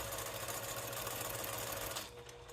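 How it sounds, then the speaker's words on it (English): Sewing machine stitching a cork pouch at a 2.5 millimetre stitch length, a fast steady whirring run close by that stops abruptly near the end. "I'm going to stitch all the way up."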